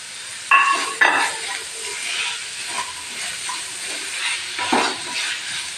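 Homemade paneer being stirred and fried into a potato masala for masala dosa in a pan, with a steady sizzle and several sharp scraping stir strokes near the start and near the end.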